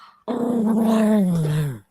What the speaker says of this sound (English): He always growls when I pick him up.